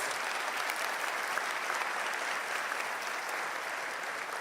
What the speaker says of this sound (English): Please give a round of applause to that lady wherever she is.